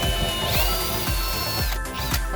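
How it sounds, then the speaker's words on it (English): Small pilot holes drilled through a console wall, a steady whining power-drill motor with a high tone that dips partway through, close up, with rhythmic ticking underneath. "the next step is to drill small pilot holes through to the other side of the console wall."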